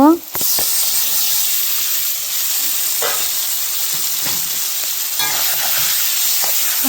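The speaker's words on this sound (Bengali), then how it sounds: "দেওয়ার পরে আর একটু নেড়ে চেড়ে নেব" Sliced onions and green chilies fry in a pan, a strong steady sizzle broken by several sharp stirring scrapes and clinks of a spoon against the pan.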